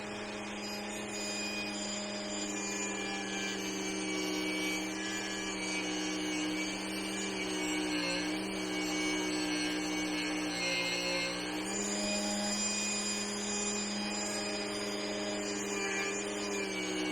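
A multi-speed Dremel rotary tool runs continuously at a steady high-pitched whine with a few slight shifts in tone, heard close and alone for the whole stretch.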